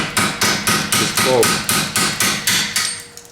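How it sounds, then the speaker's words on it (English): A hammer strikes a stuck bolt in a car's suspension, about a dozen loud, evenly spaced metallic blows close by, with a brief spoken word between hits. "I need hammer, and then I hammer"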